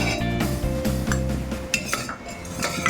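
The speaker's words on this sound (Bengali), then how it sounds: "ভাজা আমার পুরো হয়ে গেছে তাই নারকেল ভাজাগুলো একটি বাটিতে আমি তুলে নিচ্ছি" A spoon scraping and clinking against a pressure cooker and bowl as fried coconut is scooped out, with a few sharp metallic taps and a faint sizzle underneath.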